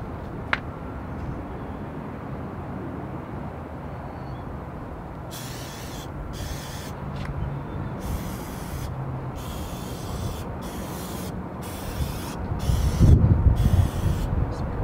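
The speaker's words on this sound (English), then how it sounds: "Spraying it with Lysol to disinfect it." A long hissing spray of Lysol disinfectant on an RV water hookup comes in repeated bursts of a few seconds each, with short pauses between them, over a steady background rumble.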